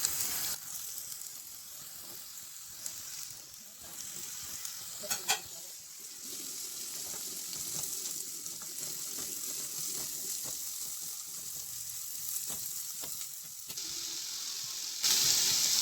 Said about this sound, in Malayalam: 2 ഉള്ളി ചെറുതായി കട്ട് ചെയ്തത് ചേർത്ത് കൊടുക്കാം.